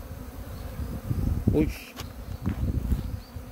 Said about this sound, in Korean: 말벌들 들어가 있어